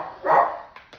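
A dog barks once loudly at close range, followed by a couple of fainter short yips, outdoors on a disc golf course.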